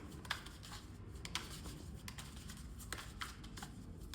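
Tarot cards shuffled by hand in a quiet room, a steady run of soft papery riffles and light slaps that stays faint and close throughout, with no talking.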